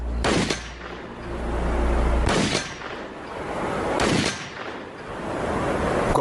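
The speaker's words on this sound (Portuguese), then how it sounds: "Vamos dar alguns tiros aqui e ver qual a velocidade da munição." Rifle shots fired through a chronograph to measure bullet speed crack out as three loud, sharp reports, evenly spaced about two seconds apart, each followed by a ringing decay outdoors with no talk between.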